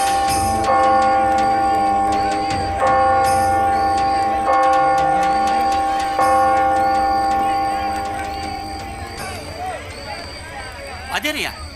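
A bell rings in repeated, evenly spaced strikes under a constant murmur of voices and background noise, then stops abruptly partway through, leaving only the voices and ambience.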